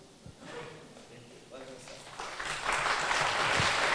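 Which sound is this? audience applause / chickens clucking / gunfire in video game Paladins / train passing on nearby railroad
audience applause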